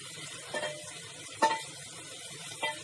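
Chicken is stirred in a hot pan over a low background sizzle, with three scraping strokes of the spoon, the middle one loudest, close and without talk.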